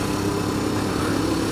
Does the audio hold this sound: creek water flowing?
no